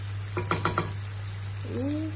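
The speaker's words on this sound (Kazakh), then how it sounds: "Мінекей қыздар, біздің сәбізімізді өте әдемі болып қуырылды." Carrots for lagman frying in a pan and stirred with a few quick scraping strokes over a steady sizzle and low hum, followed by a brief sliding scrape; close and fairly quiet.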